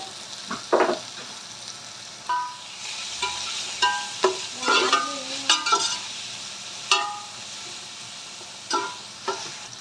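Onions seasoned with salt sizzle in a pan for a Sri Lankan chicken biryani while a spoon stirs them, making a steady frying hiss broken by clear metallic scrapes and clinks close by.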